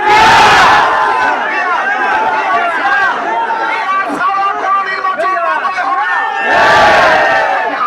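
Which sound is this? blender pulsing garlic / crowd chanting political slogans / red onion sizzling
crowd chanting political slogans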